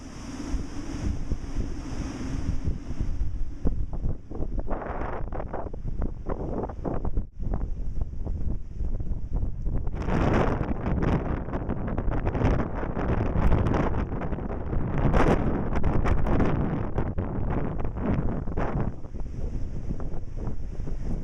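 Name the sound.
storm wind in Wareham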